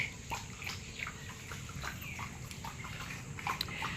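A dog laps water with quick, regular wet licks, soft and close, under a faint background hiss.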